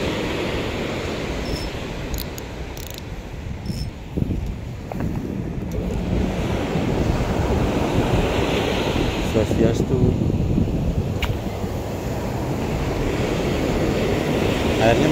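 Sea waves wash steadily onto the beach at Kusamba while someone fishes from the shore, a continuous broad surf roar with wind buffeting the microphone and a voice talking over it.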